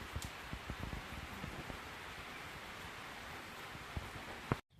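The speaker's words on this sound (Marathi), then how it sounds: "झाला पाऊस चालू जास्त काय जोर नाही झाला हलकाशी पावसाला सुरुवात होऊन गेली" Light rain begins to fall outdoors in a village, a faint, even hiss with soft scattered drops and rustling that runs steadily before cutting off abruptly.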